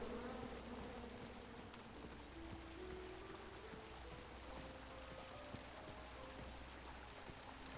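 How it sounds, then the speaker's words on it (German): Angry wasps swarm from a shaken nest in the King's Quest game, a dense continuous buzzing drone with shifting pitch, steady and fairly faint, with no voices over it. "Ich sehe mich gezwungen, die Wespen zu nehmen. Oder zumindest das Nest hier runterzuschütteln."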